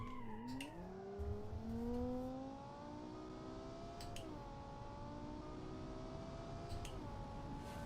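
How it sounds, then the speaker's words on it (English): The engine note of a V10 sports car in BeamNG climbs steadily across several upshifts, each marked by a short drop in pitch. It stays a continuous, even-volume whine with a faint low rumble beneath. "V10 sounds great"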